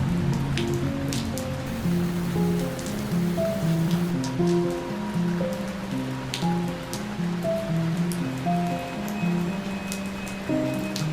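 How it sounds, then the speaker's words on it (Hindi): Steady rain hisses continuously under soft, slow melodic music, with no voices. "बाहर बहुत बारिश है"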